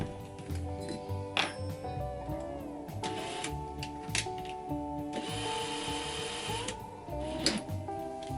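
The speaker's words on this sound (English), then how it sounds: "Alright, so I'm pilot drilling it." A drill pilot-drills a hole dead center between the three barrels of a 3D printed 1:1 scale Cerberus cosplay prop, a steady whirring drone with bursts of higher grinding as the bit bites, close and alone.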